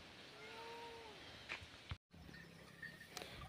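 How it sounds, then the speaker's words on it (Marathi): Cats cry out with faint drawn-out wailing yowls inside a farm shed where cows and calves are tied, heard at a distance over steady background noise with a few thuds and a brief dropout. "वर शेडमध्ये आलो तो पण मांजरी लगे आरडायला लागले"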